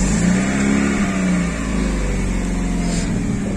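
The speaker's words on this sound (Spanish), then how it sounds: "Bueno, así está sonando actualmente al prenderlo." A Chevrolet Aveo with its stock exhaust, catalytic converter still fitted, starts and revs up close, its engine loud and steady with a rising then settling tone.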